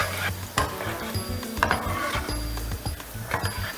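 Garlic stir-fried in hot oil in a wok for chicken with cashew nuts, with a steady loud sizzle broken by repeated scraping strokes of the stirring utensil.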